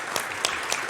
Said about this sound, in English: Yes, we can applaud Peter and Vicki.